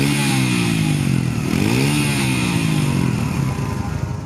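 Orcal Astor 125 Euro4 motorcycle engine accelerating, a loud, close, continuous rising engine note with the pitch sweeping upward and dipping once, heard alone without speech.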